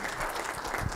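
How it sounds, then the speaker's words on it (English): An audience at an anniversary conference applauds the MC, a brief burst of dense, steady clapping from a crowd. "And a big round of applause for our MC, Andrew"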